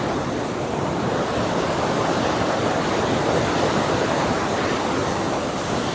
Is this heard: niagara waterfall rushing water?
yes